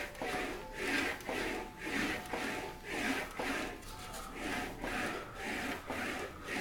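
An English wheeling machine rolls a steel body panel for a Wolseley Hornet Swallow sports car, giving a steady back-and-forth rubbing grind that swells and fades in even passes about once a second, close and moderately loud.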